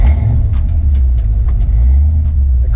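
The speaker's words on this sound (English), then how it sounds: "I'll go ahead and start it up" A Ford Mustang Foxbody fitted with BBK headers idles with a deep, heavy rumble, loud and close, carrying a steady low throb with light rasp over it and no starter crank audible.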